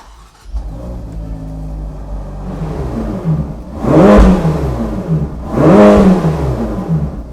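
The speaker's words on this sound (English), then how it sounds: "the glorious sound of Ferrari's flat-plane V8" A 2020 Ferrari Portofino flat-plane V8 engine revs loudly twice, each burst climbing and falling in pitch over a steady idle, heard close up.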